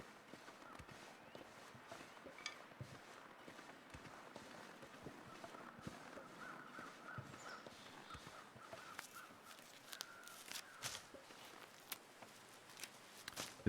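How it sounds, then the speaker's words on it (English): Crows caw now and then inside the bleak survival game The Long Dark, fairly distant and spread over a windy, noisy ambient bed with scattered footstep-like crunches and no talk. "I hear the crows."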